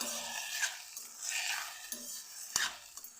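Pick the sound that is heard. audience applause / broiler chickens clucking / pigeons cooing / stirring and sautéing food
stirring and sautéing food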